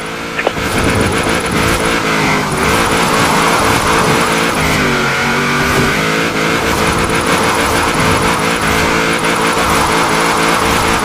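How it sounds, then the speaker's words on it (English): Engine revving hard with squealing tyres as a car drifts in the Forza Horizon racing game, loud and continuous throughout with no talking. "Now let's really shred those tyres."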